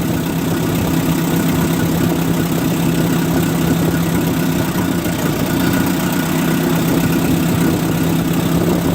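A 1958 Oliver 550 gasoline tractor engine idles steadily after an idle mixture adjustment, a loud, close, even low rumble with a constant chugging pulse running unbroken throughout, with no voices.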